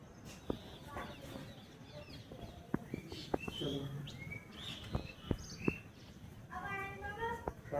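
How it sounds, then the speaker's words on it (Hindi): Birds chirping on an early morning, with varied tweets and short calls alongside a few clucks from fowl, scattered through a soft outdoor background, moderately near and never loud. "पक्षी चहचहा रहे हैं।"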